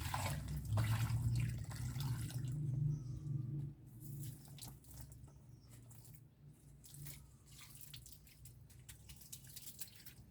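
Water poured onto a giant Sente plant in a pot, a steady splashing trickle that is strongest in the first few seconds, then thins to soft drips and patters close by.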